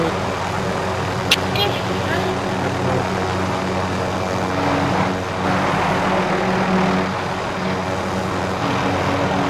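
A helicopter in the video game Warzone gives a steady, loud engine and rotor drone that runs continuously, with people talking over it.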